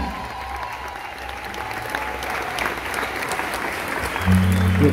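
Concert audience applauding in a Munich hall at a rock-and-roll show, steady dense clapping throughout with a low hum rising near the end.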